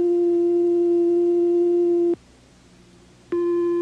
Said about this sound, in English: These oscillators produce sound electronically. Each oscillator produces a different kind of sound with a different wave form. This is a sine wave.